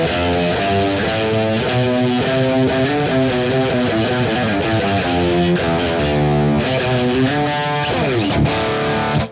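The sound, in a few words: distorted electric guitar playing D Dorian scale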